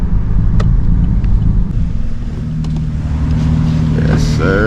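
A 2019 Chevrolet Camaro engine accelerates from close by with a loud, steady low rumble and a rising drone toward the end.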